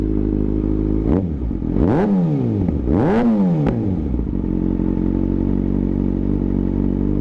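A 2017 Kawasaki ZX-6R sport motorcycle with an aftermarket exhaust idles with a deep, loud exhaust note, then revs sharply twice in quick succession before settling back to a steady rumble.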